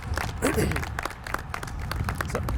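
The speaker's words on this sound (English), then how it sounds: "I think it's maybe a round of applause for 2026 is a great idea." An audience at a zoo announcement event applauds in a lively, uneven burst of many close hands. A murmur of voices sits underneath, with a few louder claps standing out.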